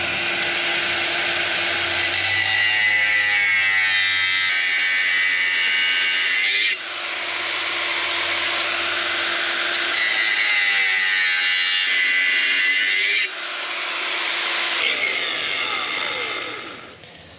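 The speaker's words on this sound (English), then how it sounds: "when you cut aluminum with a death wheel, it gets crazy hot" Cut-off wheel slicing through aluminum angle channel in a shop, a loud sustained high-pitched grinding screech in three long passes separated by brief dips, close and without talk.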